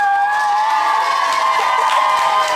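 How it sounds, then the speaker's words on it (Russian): A crowd at a children's camp talent show cheering, shouting and whooping loudly all at once, a sustained, dense roar of young voices with applause mixed in, close and continuous. "Кто согласен, аплодирует."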